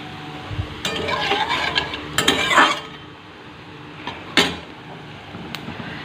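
Nigella seeds dropped into hot oil for tempering while cooking a simple home-style dish: a brief crackling sizzle with pan and utensil clatter, a louder burst in the middle, then quieter settling sizzle and a clink.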